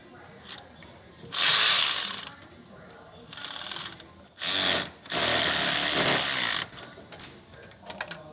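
An electric ratchet whirs in several short bursts, close by, as it tightens the alternator bolt on a 2013 Honda Pilot, with quieter clicks and handling noises between the runs.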